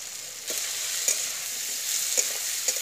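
Chopped onion fries in hot oil with potato and tomato, a soft steady sizzle with a few light stirring clicks of a utensil, close and quiet, no talk.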